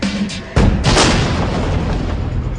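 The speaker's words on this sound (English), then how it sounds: "We have simulated an incident in which a vehicle patrol is hit by a rocket-propelled grenade." A simulated rocket-propelled grenade strike on a vehicle patrol in a training exercise: a sudden heavy boom cuts in after a short lead-in, then a loud rumbling blast rolls on and fades slowly.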